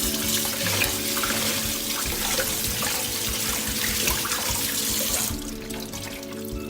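Kefir grains rinsed under a strong stream of running tap water, a steady loud splashing flow filling the sink that eases off slightly near the end, with no talking.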